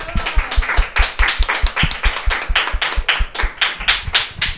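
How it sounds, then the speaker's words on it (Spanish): Rhythmic group clapping closes a segment of a Spanish-language Catholic talk show, a steady run of sharp, evenly spaced claps that carries strong and close throughout with no talk over it. "Despedimos este segmento con un fuerte aplauso."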